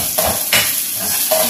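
Garlic fries in a pan with a loud close sizzle, broken by a few brief stirring scrapes and utensil clinks against the pan, and no speech.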